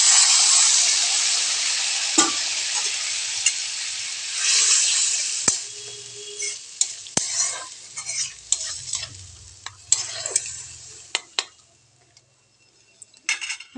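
Dried fish in a pan sizzles loudly and hisses at first, then the frying noise fades out and leaves scattered clinks and scrapes of a utensil against the pan.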